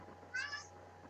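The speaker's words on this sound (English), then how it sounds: "There's my chatty cat." A house cat gives a single short meow, fairly faint and brief, against a quiet background with a low hum and no talking.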